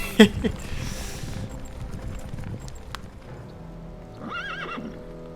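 Horses in the Warcraft 3 human campaign: a sharp hoof clatter opens, then a steady clip-clop of galloping, and near the end a loud, high whinny rises and falls, all close and clear over a game backdrop.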